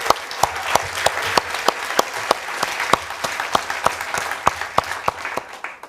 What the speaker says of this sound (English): I still feel like we should give another round of applause to Heather because that was amazing.